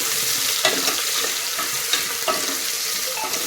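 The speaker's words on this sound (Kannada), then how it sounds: "ಇದು ಸ್ಲೋ ಉರಿಯಲ್ಲಿ ಫ್ರೈ ಆಗಲಿ" Overnight-soaked green peas fry over a slow flame for a North Karnataka birenji rice dish, giving a steady close sizzle with a few soft stirring scrapes and no voices.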